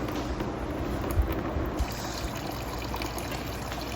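Coolant drains from a Ford F100 truck in a steady trickling, splashing stream, close and continuous with no talk.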